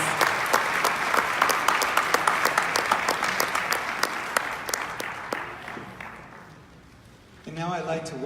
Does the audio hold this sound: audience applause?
yes